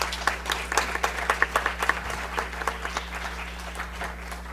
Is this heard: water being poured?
no